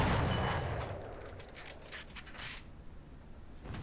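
A ZIS-43 tank gun fires in War Thunder, with a loud blast up front that rolls into a decaying rumble and scattered crackling, fading over a few seconds.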